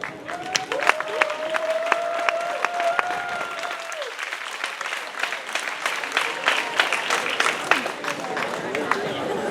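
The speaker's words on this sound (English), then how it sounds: "You're about to hear a round of applause." A live audience breaks into a round of applause at a hypnosis stage show, with dense clapping and crowd noise across the clip and a sustained sung or held tone over it early on.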